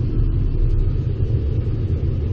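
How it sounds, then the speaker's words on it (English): The 3.5L engine of a Chevrolet Colorado truck idles with a steady, deep, even rumble, close and constant with no voices. "I'm gonna start the truck."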